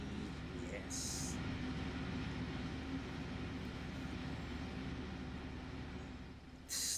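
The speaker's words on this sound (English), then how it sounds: "The run sounds on this train is so loud." Loud running sounds of a modern commuter train in the video game Trainz Simulator 3, a constant rolling rumble and hum with brief hissing bursts, and a person talking over it.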